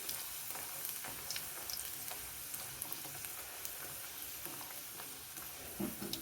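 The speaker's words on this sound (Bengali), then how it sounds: "এবারে আমি একে একে এভাবে ছেড়ে আমি ভালো করে ভেজে নেব।" Dal puri deep frying in hot oil, an even bubbling crackle with small pops scattered throughout, fairly quiet and steady, with no one speaking.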